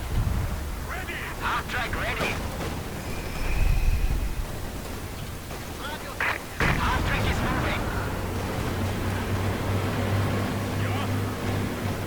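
Heavy, booming battle noise from Company of Heroes, with rumbling explosions and low engine-like drones from a bombing run, dense and continuous, with a louder blast burst in the middle, heard under players talking.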